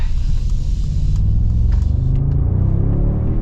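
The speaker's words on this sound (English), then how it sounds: "So I'm trying to create a little bit of space so I can get you guys one more kind of rip." A 2025 Mercedes G63 G-Wagon engine rumbles loudly and steadily as the SUV accelerates, with a deep, sustained low roar and no talking.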